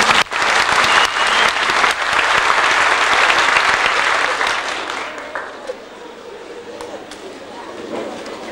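Audience applause for Jacques and Henry after an acrobatics performance, loud and steady for about five seconds, then fading to scattered claps and room noise.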